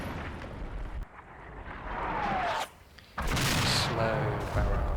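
A slow 81mm artillery barrage in Combat Mission rumbles as low, booming impacts and crackling blasts, fairly faint and distant, with a short lull before a heavier roll of explosions.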